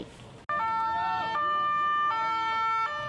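A loud ambulance siren wails steadily at close range during the Taipei Marathon, its two-tone pitch alternating as the vehicle passes through the crowd of runners, with traffic rumble underneath.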